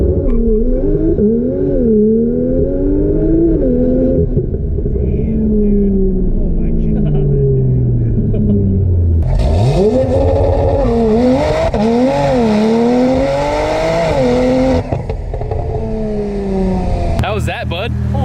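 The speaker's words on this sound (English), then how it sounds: "Easily the hardest launching car I've ever been in." An 1100 hp Mitsubishi Evo IX race car with a sequential gearbox and a built engine on 50 psi of boost launches hard, its engine screaming up through rapid shifts, loud and close from inside the cabin, with excited voices over the roar.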